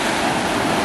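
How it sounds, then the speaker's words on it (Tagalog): Strong ocean surf at Seven Mile Beach in West Bay, Cayman Islands, roars as a dense, continuous broadband wash, loud and close, with wind buffeting the microphone. "Yan, lakas na ng alon eh."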